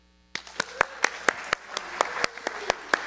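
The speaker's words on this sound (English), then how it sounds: "Take your applause, yeah." Scattered audience applause at a San Francisco spiritual unity gathering: a handful of distinct, fairly close hand claps in a loose, steady rhythm, not dense, over a quiet room.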